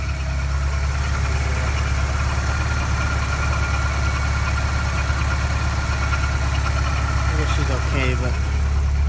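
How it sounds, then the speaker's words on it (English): A Porsche 944 engine idles steadily with an uneven, misfiring beat, loud and close throughout, while a person talks over it. "Oh, there was a bigger misfire."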